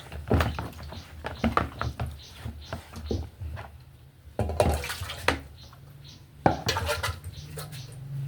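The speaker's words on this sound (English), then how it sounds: "I want to wash my chopping board." A chopping board is washed under running water in a home kitchen, with bursts of gushing tap water broken by knocks and clatters as the board is handled.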